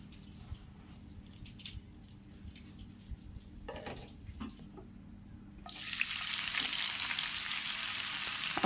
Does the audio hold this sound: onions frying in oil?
yes